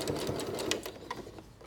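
A sewing machine stitches binding down on a small quilted coaster, a brief steady mechanical whir with a rapid needle rhythm, close by, slowing near the end.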